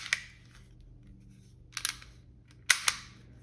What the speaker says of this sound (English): pressing the trigger by harder trigger press to cock the gun, and that's the gun firing